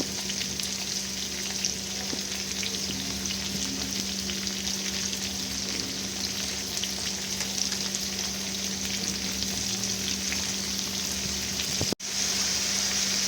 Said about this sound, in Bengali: আলুগুলো ফার্স্টে একটু হালকা ভাজা ভাজা করে নিতে হবে